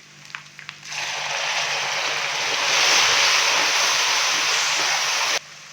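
Water poured into a pan of lightly fried whole spices bursts into a loud, steady sizzle that swells mid-way and then cuts off abruptly, following a few small clinks.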